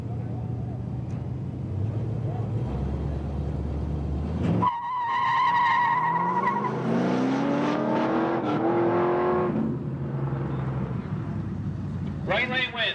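Drag racing cars launch down a strip at a 2008 drag meet, engines roaring and rising in pitch as they accelerate away, loud and continuous with a crowd and announcer underneath.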